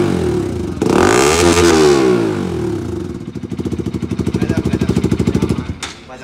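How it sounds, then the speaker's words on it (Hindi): A Pulsar RS 200 motorcycle with a full system exhaust and dB killer fitted is revved up close, swelling into a loud sweeping roar, then settling into a rapid, pulsing, bass-heavy idle burble before cutting off. "इसलिए लॉन्ग कैन में इसका अलग बेस टाइप का आवाज़ आ रहा है।"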